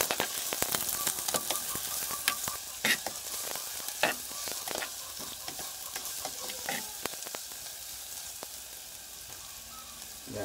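Garlic sizzling in a frying pan with oil, a steady crackling hiss broken by sharp stirring clicks and scrapes, close and alone without talk.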